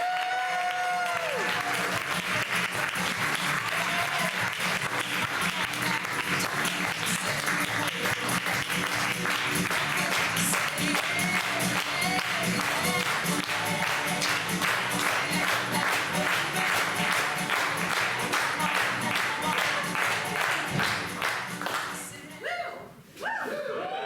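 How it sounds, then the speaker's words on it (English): An audience at a live show claps and applauds continuously, a dense, loud wash of many hands with occasional cheers mixed in, fading out near the end. "Let's do some clapping."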